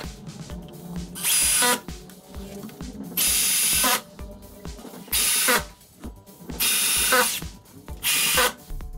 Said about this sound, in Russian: Прикручиваем L-планку при помощи саморезов с интервалом около 20 сантиметров.